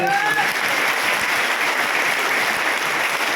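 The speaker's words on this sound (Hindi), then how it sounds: "एक बार जोरदार तालियां बजाइए।" Hearty applause from the audience at a business seminar, a dense, even roar of many hands clapping that holds steady throughout.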